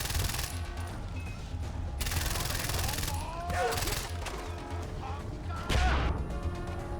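Gunfire in the video game Far Cry 4, with several loud bursts of rapid shots spread across the clip and a heavier blast near the end over continuous game noise.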